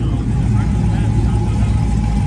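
A lowered, wide-body Dodge SRT Hellcat gives a deep, steady engine rumble close by, a continuous low growl with no rise or break over two seconds.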